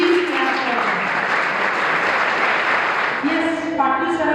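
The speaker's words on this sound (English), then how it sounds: "Please clap for them." An audience applauds school children after their Bal Sansad children's parliament presentation at PM Shri School JNV Shegaon, sustained clapping throughout with voices over it near the start and end.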